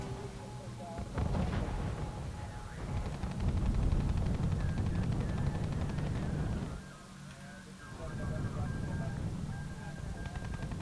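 Artillery fire from Soviet guns in the WWII strategy game R.U.S.E., rolling booms and rumbling blasts spread across the stretch under a commentator's voice, with a brief lull near the middle.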